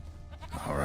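A goat in the video game The Witcher 3 lets out a single short bleat, close and moderately loud, rising toward the end of a brief moment.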